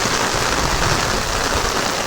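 Heavy rain pours onto farm fields as a dense, loud, unbroken roar of falling water, with no voices.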